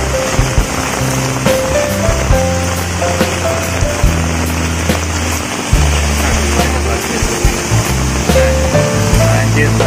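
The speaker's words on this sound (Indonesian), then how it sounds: "Sangat deras, bos, hujannya, bos." Heavy rain pours over a flooded crossroads at Podorejo, making a dense, steady roar throughout. Voices speak over it, and other tonal sounds run underneath.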